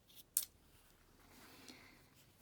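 Scissors snip through sewn egg-carton sail material close to its end, one crisp, sharp cut near the start, then a quiet pause.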